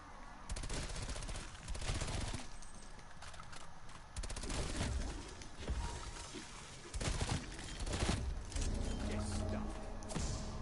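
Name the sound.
gunfire in video game Call of Duty Cold War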